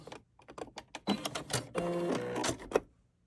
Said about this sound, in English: So keep sewing, and then when you get to the end, do a couple back stitches, and then remove it from your machine.